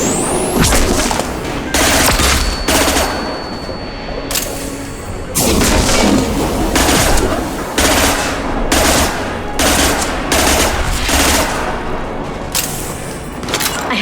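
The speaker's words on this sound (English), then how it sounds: "Watch out, flashbangs." Flashbang grenades burst amid sustained gunfire in a Mass Effect 2 firefight, with repeated loud booms and rapid shot bursts stacking up across the whole stretch, dense and close.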